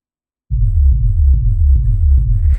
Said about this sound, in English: So you see you get this big, crunchy, full bass